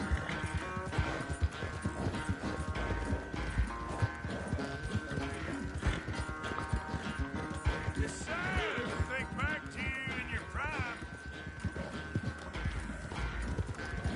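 A horse gallops in the Red Dead Redemption 2 video game, hooves clip-clopping in a fast continuous rhythm with a whinny partway through, under game music.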